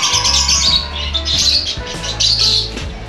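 Two birds at a pet market in Meycauayan, Bulacan squawk in loud, harsh bursts over a steady low hum of market background noise.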